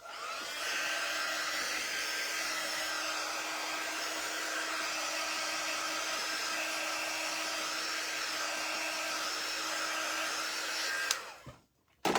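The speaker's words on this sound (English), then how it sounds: "I'm gonna hit it really quick with my quick dry tool." A handheld quick-dry heat tool blows steadily on a damp craft piece for a kitchen towel project, a loud continuous whirring hiss that runs for about eleven seconds before clicking off.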